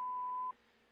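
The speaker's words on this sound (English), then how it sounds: "Please leave a message at the beep." A single steady answering-machine voicemail beep, a clean mid-pitched tone lasting about half a second before cutting off into quiet room tone.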